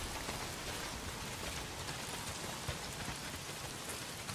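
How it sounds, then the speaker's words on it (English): Heavy rain in the video game Days Gone pours down steadily, a dense, even hiss of drops with no break, loud and close, with no voices over it. "Well, not if it's pissing down rain."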